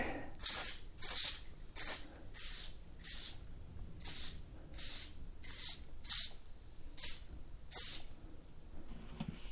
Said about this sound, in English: I use this to clean everything about my wheels. This foaming tire cleaner.